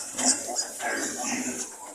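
Sow oinking in a pen shortly before farrowing, with short grunts heard nearby over a steady background hiss, with no talking.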